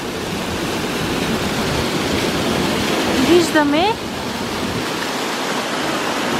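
Kostenets waterfall near the village of Kostenets in Bulgaria gives a steady, broadband rush of falling water throughout, with a person speaking briefly over it midway.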